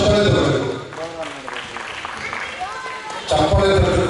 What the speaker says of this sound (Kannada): ಒಂದು ದೊಡ್ಡ ಚಪ್ಪಾಳೆ ತರಬೇಕು